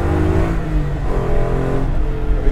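A 1967 Ford Mustang Fastback with a swapped Coyote V8 revving, a loud, close, deep burble of engine that holds steady through a short burst.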